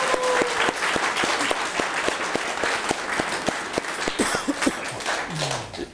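An audience at a Polish political debate claps in a dense, continuous round of applause that holds steady throughout.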